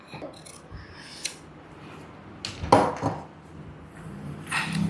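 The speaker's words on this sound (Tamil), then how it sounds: "ஜஸ்ட் அப்படியே நீங்கள் ரொட்டேட் பண்ணிகிட்டே கட் பண்ணிவிட்டு வரணும்." Scissors snip through fabric in short, close crisp cuts while the cloth is rotated to cut a continuous bias tape strip, with occasional rustling and no talking.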